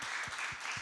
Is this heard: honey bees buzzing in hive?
no